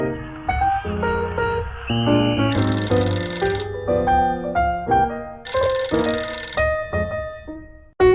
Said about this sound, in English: trying to forget about the holidays when the phone rang